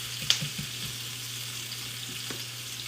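Steak and snow peas sizzle in a hot stir-fry pan while being stirred, a steady crackling fry with a few soft scraping knocks from the stirring near the start, close by and without talk.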